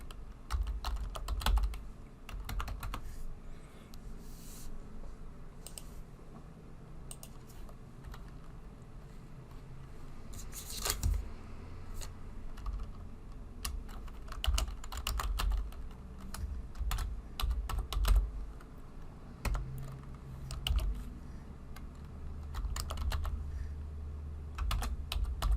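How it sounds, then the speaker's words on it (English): Someone types a password on a computer keyboard, a close run of sharp, irregular key clicks with short pauses and a few louder taps, heard alone. "We're going to put a password in here."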